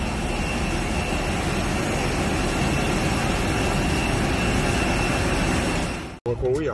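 A jet plane's engines roar steadily and loudly at Manila airport, a close, continuous whine and rumble that cuts off abruptly near the end.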